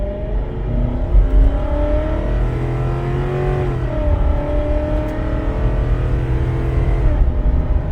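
A Ford car with a suspected misfire after a new coil accelerates on a road test, its engine droning steadily from inside the cabin with a gradual rise in pitch and no voices.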